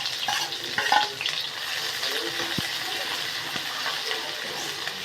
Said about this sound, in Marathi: एक कांदा बारीक कापून घेतला परतून घ्यायचा आहे कांदा